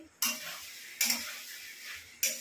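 A spoon stirring curry in a pot, three scraping strokes spaced about a second apart, close and moderately loud against a faint background.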